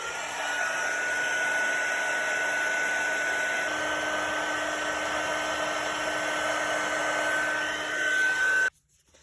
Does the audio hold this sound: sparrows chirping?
no